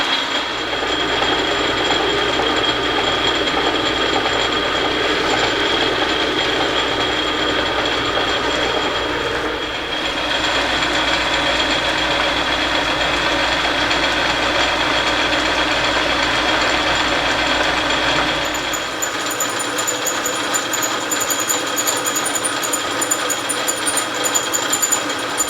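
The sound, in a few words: cutoff and grooving tool cutting metal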